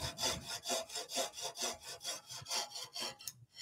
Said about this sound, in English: before we get the pull saw back out and cut that off